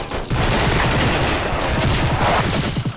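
A fast-firing weapon in a video game lets off loud, close, dense bursts of rapid gunfire, the shots coming so quickly they run together into a near-continuous rattle for most of the few seconds.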